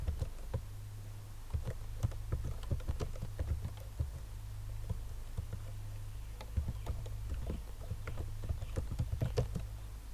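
Steady clattering keystrokes on a computer keyboard while C/C++ code is typed, irregular clicks running throughout alongside a low steady hum.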